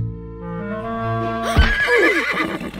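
A horse neighs in a loud, drawn-out whinny that rises and wavers, close by, followed by rougher snorting, with no talk over it.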